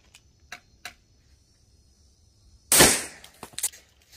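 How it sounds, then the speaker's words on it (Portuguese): A homemade shotshell fired at a target about five meters away, one sharp loud blast followed by brief echoing crackle, preceded by a few small clicks of handling, no talk. "Então vou efetuar esse disparo ali colocando a 5 metros mais ou menos."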